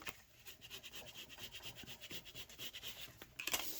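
Paper strips in a journal are rubbed flat by hand, giving soft, repeated close brushing strokes in a quick, uneven rhythm, faint and alone, ending with a slightly louder rustle.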